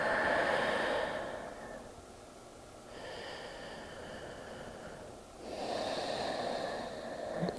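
Slow breaths taken during an upper-back stretch on hands and knees, two long airy exhales separated by a quieter inhale, close and soft with no talking.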